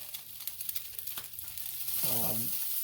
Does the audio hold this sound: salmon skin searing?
yes